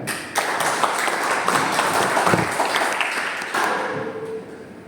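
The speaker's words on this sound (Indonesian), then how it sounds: "Boleh tepuk tangan?" Crowd applause at a lubricants center event fills the space, a dense wash of many hands clapping at steady loudness, then tapering slightly toward the end.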